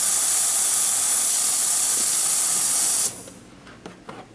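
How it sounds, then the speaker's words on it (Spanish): An espresso machine's steam wand blowing a loud, steady hiss of steam for about three seconds, then shutting off, leaving soft clicks and handling sounds. "El botón del vapor entonces está cerrado y se abre"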